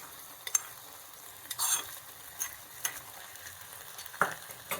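Golden-fried coconut tempering poured into a pumpkin and black-eyed pea curry, giving a soft steady sizzle broken by a few sharp spoon scrapes and clinks against the pan, close and alone.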